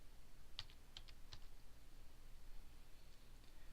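Several quick, faint keystrokes on a computer keyboard while entering a quantity in farm management software, a short cluster of clicks early on followed by quiet room hum.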